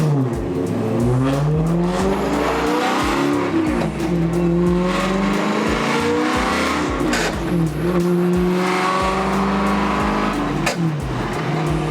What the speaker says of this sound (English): The grindy third and fourth gear. Broken transmission.